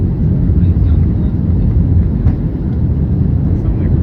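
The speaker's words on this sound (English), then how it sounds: "Extend the flaps. Slow the plane down." An airliner on landing approach to Basel with its flaps extending: a steady, loud low engine and airflow roar inside the cabin, with no distinct mechanical sound standing out.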